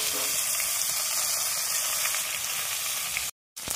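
Koi fish rubbed with salt and turmeric sizzle steadily in hot oil, a loud continuous crackling hiss that cuts off abruptly near the end.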